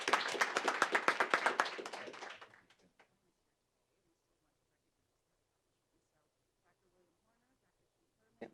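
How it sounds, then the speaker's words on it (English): Applause from an audience at a university board of curators meeting, a dense burst of clapping for about three seconds that quickly dies out, leaving near silence with a faint thump at the end. "but we still give them all a round of applause"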